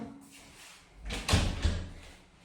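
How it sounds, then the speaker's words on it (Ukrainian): A house door is pushed shut in a village home to cut down the echo, giving a couple of close, dull thuds in quick succession against a quiet room. "Зараз закрию двері, щоб не така луна була"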